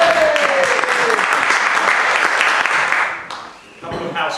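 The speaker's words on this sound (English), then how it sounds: "A round of applause." A crowd applauds steadily, a dense patter of clapping that fades out near the end before a voice begins speaking.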